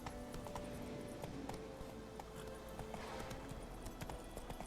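Horse hooves clip-clopping in The Witcher 3 game, a steady rapid rhythm of hoofbeats under a continuous low rumble of ambient game sound, moderately loud and close.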